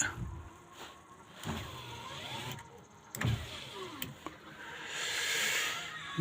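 Electric power window motor on a Daewoo Nexia running in repeated short whirs with pauses between, the window moving up and down in the car, fairly quiet and close with no talk.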